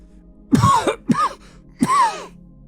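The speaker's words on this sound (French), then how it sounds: "si tu veux tousser, fais comme ça, regarde." Three forced, throaty coughs in quick succession, close and loud, each with a rough, groaning tail, as if someone is faking a cough.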